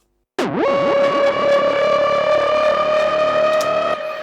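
A processed horn tone, EQ'd and drenched in big reverb with pitch shifting, bursts in and swoops before settling into a sustained, siren-like blare with echoing tails, loud and alone.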